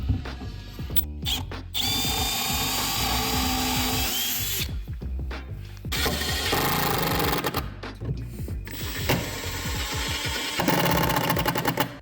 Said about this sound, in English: one guy drills, one guy fastens, probably switch out every now and then.